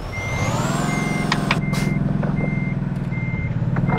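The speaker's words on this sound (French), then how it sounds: "On va reculer encore un petit peu." A truck reverses with its backup alarm sounding in a steady run of evenly spaced, piercing beeps over the loud, throbbing rumble of its engine, with a few short clanks and hisses.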